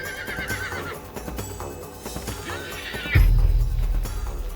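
A young wild mustang stallion of 15 hands in a snowy mountain valley gives a shrill descending whinny, followed by a sudden heavy thump and rumbling scuffle of hooves.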